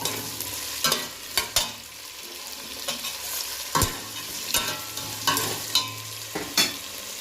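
Ingredients for spinach pulao fry in a pan, with irregular scraping stir strokes of a spatula punctuating a steady close sizzle; no talking.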